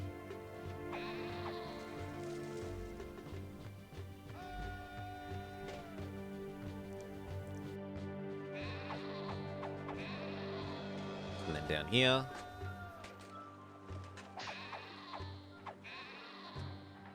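Sheep bleating in the city-building video game Caesar 3, short game-sound bleats repeating over background music and effects, with someone talking over them.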